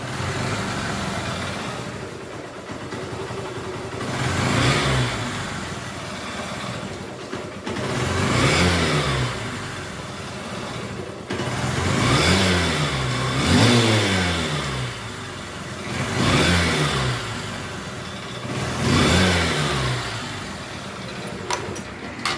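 A Honda Shine motorcycle engine, its RPM just adjusted, idles steadily and is revved in repeated swells, about five rises and falls in close succession, loud and near with no talking.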